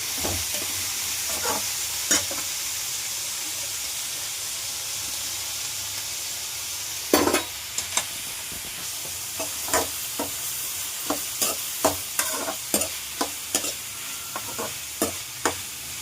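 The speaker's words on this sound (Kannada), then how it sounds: "ಆಮೇಲೆ ಆಲೂಗಡ್ಡೆ, ಕ್ಯಾಪ್ಸಿಕಮ್ ಇಷ್ಟನ್ನು ಹಾಕಿ ಫ್ರೈ ಮಾಡ್ಕೊಳ್ಳೋಣ" Potato and capsicum frying in a pan for homemade fried rice, a soft steady sizzle underneath with scattered scraping stirs that grow more frequent in the second half.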